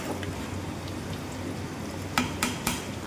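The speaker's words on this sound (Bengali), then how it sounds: "আলুটা এদিকে ভাজা হতে থাকুক" Potatoes with turmeric fry in a pan, a soft steady sizzle close by, broken near the end by three sharp clinks of a utensil against the pan.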